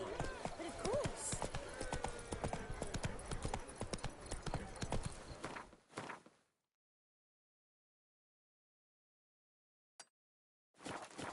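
Roach, a horse in The Witcher 3 game, gallops with dense, rapid hoofbeats close up for about six seconds before abrupt silence, then a brief burst of hooves returns at the end.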